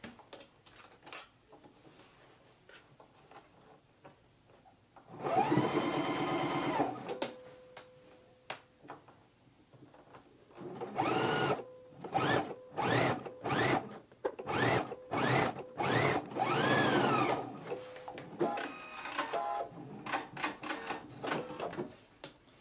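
A home sewing machine stitches a zipper seam on pants, running in a long burst and then a series of short stop-start bursts with a steady motor whine and rapid needle ticking, close and fairly loud.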